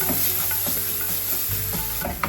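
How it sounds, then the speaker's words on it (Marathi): Semolina and chopped banana roast in ghee in a pan for prasad sheera, giving a continuous close sizzle with soft scraping stirs and a faint hiss throughout, no voices. "आणि हे पण मस्त तुपावरती आपल्याला सगळं भाजून घ्यायचं"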